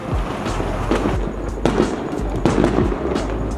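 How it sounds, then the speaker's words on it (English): Fireworks set off on July 4th crackle and bang repeatedly at moderate distance, with several sharper bursts standing out over a continuous rumbling backdrop of explosions. "It's not even dark and people are already setting off their fireworks."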